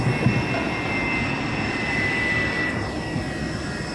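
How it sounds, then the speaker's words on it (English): A passenger airplane that has just landed at the Davao City airport idles nearby, its jet engines giving a loud, steady roar with a high whine held throughout and no talking. "his going down the plane, which has just landed here at Davao City"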